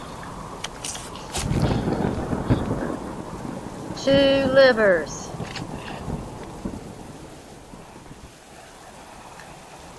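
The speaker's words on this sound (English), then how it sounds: "I hope you can hear me over the rain." Heavy rain hisses steadily outdoors while thunder rumbles low in the background, with someone talking briefly over the downpour and a short squeaky sound partway through.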